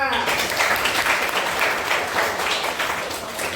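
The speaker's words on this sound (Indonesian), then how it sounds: "Beri tepuk tangan untuk Vika" Students in a classroom applaud a classmate, a dense, even spatter of many hands clapping continuously at close range, with faint voices mixed in.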